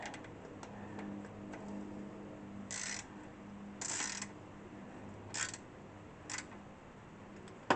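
A ratchet tightening a bolt into aluminum, with several separate bursts of quick clicking spaced a second or so apart. The clicks are fairly close and quiet over a low background hum.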